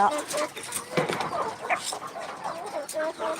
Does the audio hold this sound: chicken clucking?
yes